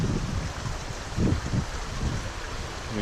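A small creek flows in a steady, close wash of broadband water noise, with a few louder gurgling swells midway and no voices.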